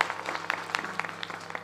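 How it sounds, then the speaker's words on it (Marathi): Faint, scattered applause from listeners at an outdoor devotional kirtan gathering in Tondale, Satara district, thin and distant with a steady low hum beneath it. "केशव महाराज विठ्ठल महाराजांकरता सर्वांनी जोरात टाळ्या वाजवायच्या."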